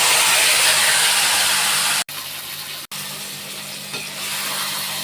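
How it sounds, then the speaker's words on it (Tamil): Loud, steady sizzling of hot oil as tempering of mustard seeds, cinnamon and onion is poured in, crackling continuously with two brief cuts, no voices. "கடுகு பட்டை வெங்காயம் வச்சுருவோம் ஓகே தாளிச்சாச்சு ஊற்றிக்கிறேன்"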